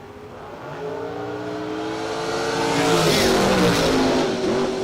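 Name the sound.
drag race cars revving and launching, Dodge Dart and Camaro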